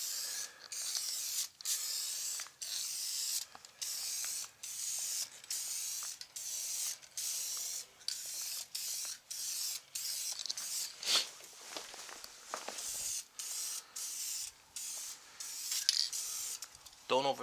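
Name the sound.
spraying tint onto car tail lights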